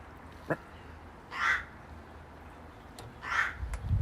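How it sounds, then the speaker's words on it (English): Two distant crow caws, each a short harsh burst about two seconds apart, over a quiet outdoor background with a faint click. "distant neighbourhood crows"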